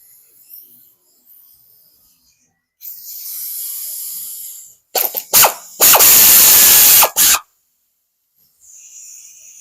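Screws are fastened into the cam plate of a Harley Davidson CVO Road Glide 121, with a ratchet clicking in quick loud bursts and a sustained run of close, harsh metallic ratcheting.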